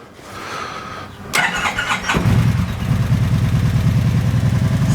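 A motorcycle that has sat unused since purchase is cold started: a starter whir, then the engine catches and settles into a loud, steady, close idle with a throbbing low pulse.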